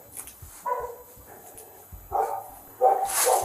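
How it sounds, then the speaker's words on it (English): A young dog barks and yips in a backyard, a few short, sharp barks at moderate distance with quiet gaps between them. "They're young dog back there."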